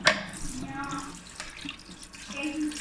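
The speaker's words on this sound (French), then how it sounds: "On rince comme ça." Tap water runs over a part being rinsed clean in a sink, a steady close splashing wash with brief handling knocks.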